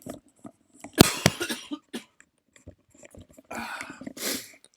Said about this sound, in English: So I've got a bit of a cough